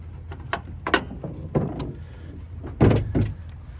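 Hood of a Chevy 1500HD pickup being opened, a string of close mechanical clunks and latch thumps with a louder thump near the end, no voices.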